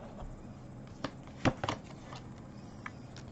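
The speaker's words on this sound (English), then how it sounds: "So I'm going to put the cards here and I'm going to show you" Tarot cards are handled and laid out on a surface, with soft scattered flicks and slaps and a few sharper snaps near the middle, quiet and close, with no talk over them.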